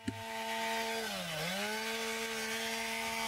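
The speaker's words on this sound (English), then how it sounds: "the saw is held vertical and just enough bar depth to feel the rafter" A chainsaw runs steadily as it cuts through a roof rafter for a rooftop ventilation louver. The engine note dips briefly midway as the bar bites into the wood, then holds, loud and continuous with no voices.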